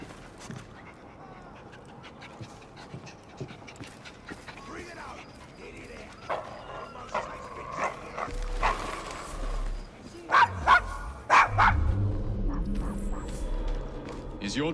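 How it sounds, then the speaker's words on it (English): Dog barking in Assassin's Creed Syndicate, set in the rough streets of the Devil's Acre: a few sharp barks rise near the end over street ambience and mechanical clatter, with characters talking around them. "Is your dog quite all right?"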